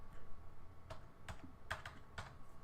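Fingers tapping out a zip code on a computer keyboard, a handful of crisp, irregular key clicks in a quiet room, close and fairly soft.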